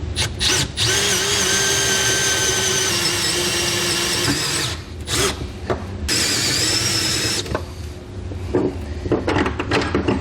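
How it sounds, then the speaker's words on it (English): A half-inch hole is drilled with a step bit while setting up an underbed fifth-wheel hitch installation kit, the power drill whining loudly in long bursts with brief pauses and short restarts, no talking. "And I like to use a step bit. You can just go up to the 1/2 inch size"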